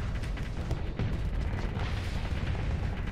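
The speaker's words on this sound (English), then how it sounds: "Torpedo." Torpedo fire and detonation in the space combat game Starsector, a dense rumbling barrage of booms and bursts heavy in the low end, continuous and loud across the moment with no speech.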